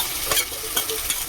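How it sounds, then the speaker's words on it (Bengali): Ginger, garlic and green chilli paste frying and being stirred with browned onion in a pan, a steady close sizzle with soft scraping stir strokes repeating about every half second, no talking. "এবার দেবো আদা, রসুন, কাঁচা লঙ্কা বাটা একসাথে বেটে নিয়েছি,"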